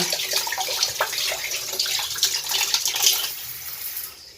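Spring-fed water gushes from an opened tap at a rural nipa hut, a steady, close splashing stream that runs continuously and tapers off slightly at the end.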